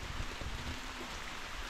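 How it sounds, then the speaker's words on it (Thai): Rain falls steadily on a treehouse in the forest during a long spell of stormy weather, a soft, even, continuous hiss with no voices. "ฝนตกค่อนข้างที่จะติดต่อกันหลายวันเลยนะครับผม"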